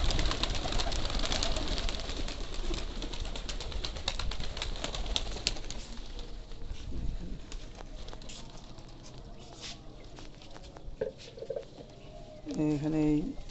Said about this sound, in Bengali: সব কবুতরগুলোই উঠতেছে।